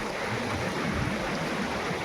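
Steady broadband roar of water rushing through the nine open gates of Dondi dam during heavy rain, continuous and loud with no break.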